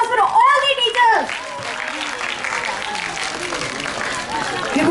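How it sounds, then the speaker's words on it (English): An audience applauds the teachers at a school quiz competition, a broad wash of clapping that follows a short stretch of voice at the start and continues steadily to the end. "Can we have a huge round of applause for all the teachers?"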